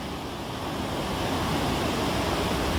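River rapids rushing over giant rocks toward a waterfall make a steady, dense roar of white water, continuous and even with no voices.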